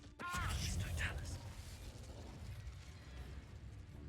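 A Confringo spell explosion in the video game Hogwarts Legacy, one sudden loud burst just after the start that fades into a rumbling, crackling tail, with a voice speaking over the blast.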